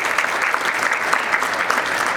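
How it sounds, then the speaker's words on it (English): Listeners at a keynote speech on success give a round of applause, with steady, dense clapping from many hands that fills the room for a couple of seconds. "Let's give yourselves a round of applause."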